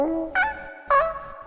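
A sampled cat meow repeats in short tonal bursts with a bouncing panning effect, the calls swelling and fading in quick alternation against a faint noise bed.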